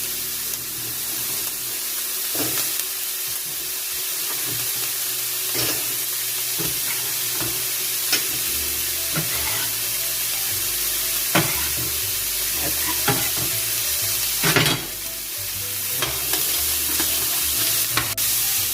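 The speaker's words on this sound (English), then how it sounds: "I'm going to add my sweet potatoes along with my seasonings into the pan" Sweet potatoes and softened onions with seasonings fry and get stirred in a pan for a ground brisket hash. A steady sizzle runs throughout, broken by frequent scraping and clattering stirs, close and fairly loud, with no talk.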